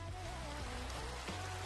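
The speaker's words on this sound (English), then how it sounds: "I hear rain." Rain falls in a modded video game, a steady faint hiss of patter under soft tonal game music, with no voices.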